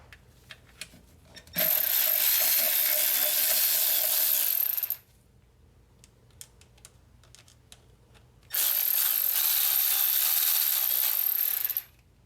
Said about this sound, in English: You're gonna need a T25 torque socket to remove these bolts.